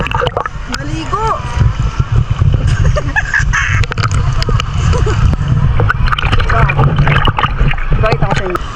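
Seawater splashing and sloshing around a swimmer in the sea at Boracay, a steady churn of close splashes that runs throughout while voices call out over it.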